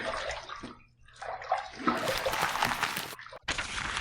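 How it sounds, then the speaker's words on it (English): A safety razor is rinsed under a running tap during a wet shave, the water splashing and gurgling in bursts with brief pauses, close and moderately loud. "Let's rinse."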